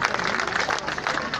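A crowd at a historical reenactment in Carrara applauds, a dense, steady patter of many hands clapping for a brief moment.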